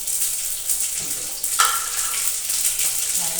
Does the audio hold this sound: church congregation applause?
no